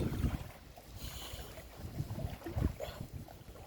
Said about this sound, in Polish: Strasznie wieje.